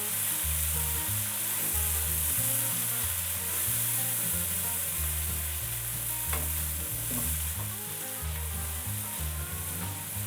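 Red chili powder being stirred into a sizzling fish curry masala in a pan, a steady close frying hiss with intermittent spoon scrapes, continuous throughout over a low rhythmic background hum, no talking.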